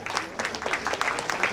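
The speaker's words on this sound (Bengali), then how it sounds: "হাততালি কোথায়?" Audience applauding at a children's Durga dance drama, a brief patter of many hands clapping at close range with uneven rhythm, moderately loud.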